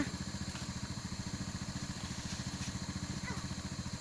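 A motorcycle engine runs at a steady idle, its rapid even pulses close and continuous, with faint background sounds over it.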